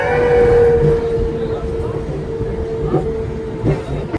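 A Konkan Railway local train rolls into a station with a loud, sustained rumble of wheels and carriages and a steady tonal whine, with voices faintly audible around it.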